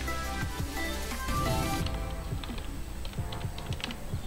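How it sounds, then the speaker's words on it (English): Someone types a command on a computer keyboard in a Linux terminal, producing a brisk run of close, crisp key clicks of uneven rhythm with no talking. "to install that you can type here"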